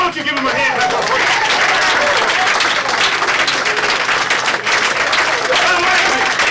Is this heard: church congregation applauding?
yes